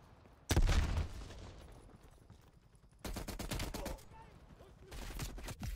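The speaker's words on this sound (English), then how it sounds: "Grenade landed right on me." A loud, close burst from a grenade blast in Call of Duty: Black Ops Cold War, followed by two later bursts of rapid gunfire-like rattling over quieter game ambience.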